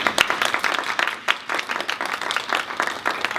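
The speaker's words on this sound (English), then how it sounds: "Can we give them all a round of applause?" Audience applause at an indoor health event about menstruation, a steady wash of many hands clapping close and fairly loud for a few seconds, with no talk over it.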